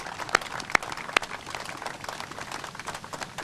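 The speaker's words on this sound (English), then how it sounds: "we need to give Brandon, his family, a round of applause" A crowd at a Pennsylvania raceway haulers parade gives a round of applause for Brandon and his family, a light, somewhat distant patter of clapping with a few sharper claps standing out.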